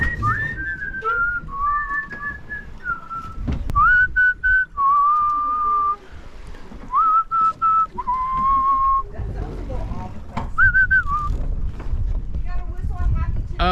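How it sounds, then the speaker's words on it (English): A person whistles a Beethoven melody aboard a sailboat, sustained tones gliding between notes in several phrases with pauses, over steady wind and water noise. "I think you got to whistle to bring the wind"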